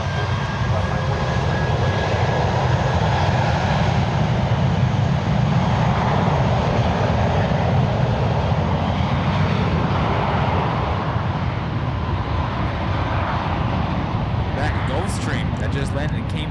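A jet airliner arriving from Athens lands at San Francisco International Airport, a loud continuous rumbling roar of engines and rushing air held steady close by throughout.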